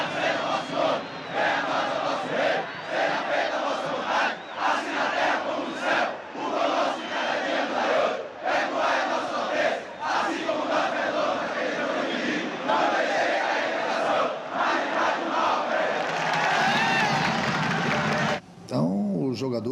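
A large stadium crowd of Bahia football supporters chanting the Lord's Prayer together, holding hands in the stands, a dense, steady mass of voices that swells toward the end and then breaks off abruptly.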